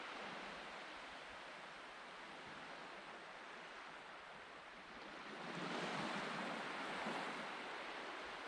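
Waves wash steadily onto a sandy beach on the Isle of Jura, opposite Craighouse, a broad continuous surf hiss with wind noise that swells louder in the last few seconds, with no voices.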